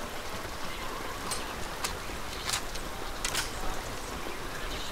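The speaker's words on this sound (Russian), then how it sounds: "Да, звуки дождя мне нравятся везде." Rain in the video game Interstellar Marines falls as a steady, soft hiss of drops with a few brighter taps over it, quiet and even, with no talk.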